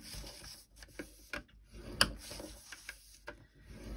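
Card being scored for a small gift box lid, heard as short scratchy scrapes and light clicks from the scoring tool, close and fairly quiet, with no voices.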